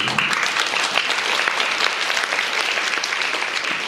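Audience applause fills the room, a dense steady patter of many hands clapping at an even level throughout, with no voices rising above it.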